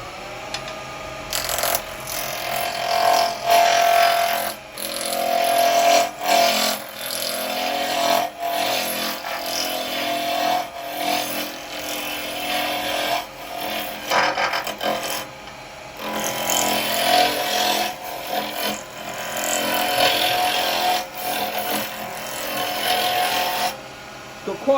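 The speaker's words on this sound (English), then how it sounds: "for this I'm just going to use a roughing gouge" Wood lathe spinning a large, oversized blank as a roughing gouge takes it down, giving a continuous scraping, rasping cut that swells and eases in bursts over the motor hum, heard close and alone.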